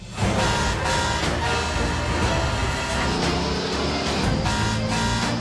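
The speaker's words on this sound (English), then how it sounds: "Oh my gosh, y'all, look at the fire truck." A fire truck sounds its horn amid dense traffic and engine noise, the honking blaring loud and sustained over a busy outdoor scene.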